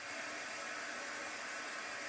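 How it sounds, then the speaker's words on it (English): Hair dryer on its cool setting, blowing onto watercolor paper during a chalk silkscreen print, giving a steady, loud, even whoosh of air that runs unchanged throughout. "Really with the hair dryer, just use the cool temp."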